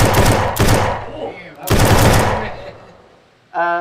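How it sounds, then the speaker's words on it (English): Loud bursts of gunfire from a spooky-themed jam video game, three rapid volleys with fading echoes, followed by a brief voice at the end. "You can aim, and the aim is synced, and you can even shoot."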